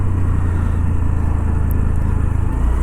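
A Honda Activa 125 scooter engine hums steadily and close during a braking test, a low continuous drone that dips slightly near the end, with a faint wind rush behind it.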